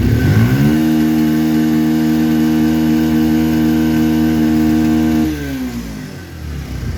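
A motorcycle engine runs steadily and loud with a strong even drone for about five seconds, then the pitch drops as it winds down toward idle or shutoff near the end, during a bike wash.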